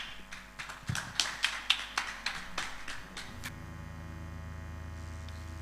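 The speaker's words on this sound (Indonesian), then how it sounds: "kasih tepuk tangan yang paling meriah" Applause from a church congregation, light and uneven, rises briefly and stops after about three seconds, leaving only a low electrical hum with no voices.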